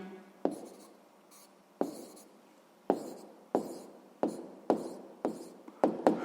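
Writing out a maths answer for a sixth-grade problem on percentage change in a square's perimeter and area: about nine firm, evenly spaced writing strokes, close and clear, each tapping down sharply and trailing off, with no talking.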